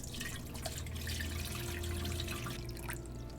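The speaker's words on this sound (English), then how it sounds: "Now we'll dump in some water." Water poured into a Drinkpod alkaline water filter dispenser, a steady splashing, trickling stream filling the tank continuously at close range with no talk.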